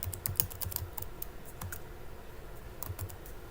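Close keystrokes on a computer keyboard while typing a word, quick uneven clicks in short bursts with pauses, alone and without talk.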